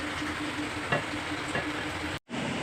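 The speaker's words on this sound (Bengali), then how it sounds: "এবার দিয়ে নেড়ে চেড়ে নামিয়ে ফেলবো।" Coconut potato curry sizzles steadily in a pan while a spoon stirs it, with a couple of soft scraping strokes over the constant frying hiss.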